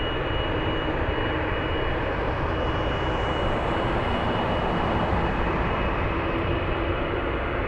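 C-17 military transport aircraft engine at an airport, a loud, steady, broadband roar holding constant throughout without a break, with no voices.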